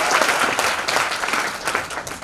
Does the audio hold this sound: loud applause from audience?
yes